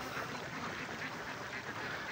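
Ducks quacking in a rice field, part of a flock of hundreds herded along a paddy embankment, a dense continuous chatter of many birds at a steady level with no talk.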